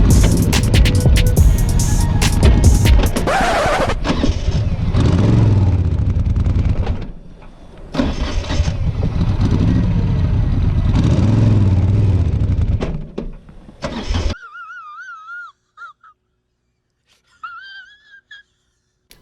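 A 2000 Moto Guzzi V11 Jackal motorcycle pulls away on an incline in third gear, its engine labouring loud and close before cutting out, leaving near silence with a faint whine at the end.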